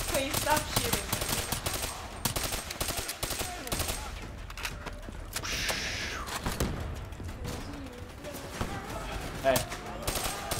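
Rapid automatic gunfire and scattered shots from a Call of Duty Black Ops 3 match run almost continuously for about ten seconds, dense and close, with a few sharper bursts, while people talk over it.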